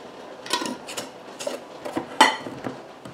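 Quart glass canning jars of green beans and onions, fitted with flats and rings, are set down into a pressure canner, giving a series of separate clinks and clatters of glass on metal, close and fairly quiet, with no talk.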